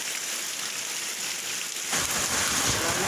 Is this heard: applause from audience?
no